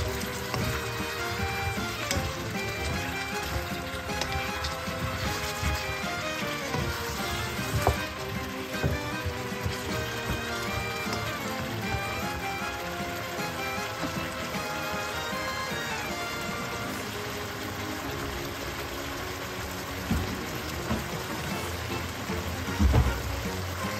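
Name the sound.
eggplant added to the pan and frying with pork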